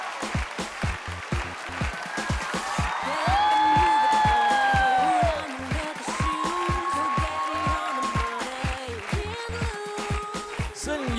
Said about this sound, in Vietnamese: Một tràng pháo tay nồng nhiệt cho ban giám khảo